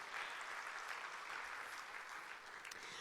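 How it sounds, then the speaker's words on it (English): A faint, distant wash of audience applause at an awards-style gathering honoring women, even and continuous for a few seconds, quiet and without any talking. "I'm happy for you to give her a round of applause."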